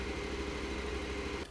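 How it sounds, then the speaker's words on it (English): A KTM 1290 Adventure R motorcycle engine idles steadily while warming up, a low even drone that cuts off abruptly near the end. "we need to start our engine and get it to running temperature"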